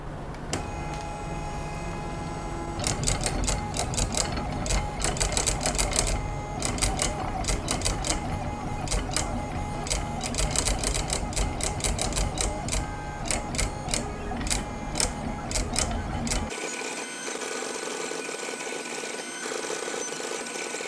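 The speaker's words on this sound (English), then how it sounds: "So I put the brush pen in the machine and let's just see how it handles" A handwriting machine moves a brush pen to write Chinese calligraphy, giving a close, continuous mechanical whir with rapid clicking and stepping bursts that stop near the end, leaving a fainter hum.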